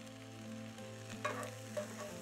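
Ham warming in a pan sizzles and bubbles steadily under a low hum, with a couple of brief louder crackles, no voices present.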